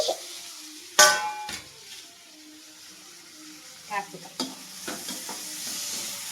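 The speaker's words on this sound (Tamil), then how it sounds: "நல்லா கிண்டிக்கோங்க." A spatula stirs fried egg with onion, tomato, beans and capsicum in a pan, giving a sharp scrape at the start and then a soft sizzle with a few more clinks and scrapes.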